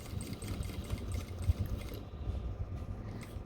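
A sewing machine runs close by, stitching a seam on cargo pants with a steady, low mechanical whir that never stops, and no one speaks.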